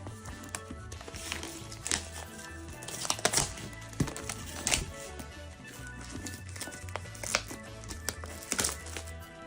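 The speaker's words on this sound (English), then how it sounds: "I always like to unwrap new devices" The packaging of a new ROG Ally handheld is handled and unwrapped, giving irregular rustles, crinkles and scattered taps and knocks, close and moderately loud, with no talking.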